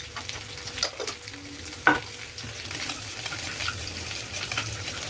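A spoon stirs Schezwan malai chicken with Schezwan chutney in a pan, giving scraping, sloshing strokes and one sharper knock over a soft sizzle, close and moderately loud with no voices.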